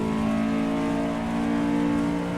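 Race car engine from the racing video game Assetto Corsa EVO on a wet track with puddles, holding a steady, loud, sustained mechanical drone with no break and no voices.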